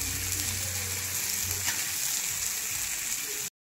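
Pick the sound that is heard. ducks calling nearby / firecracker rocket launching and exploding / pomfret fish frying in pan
pomfret fish frying in pan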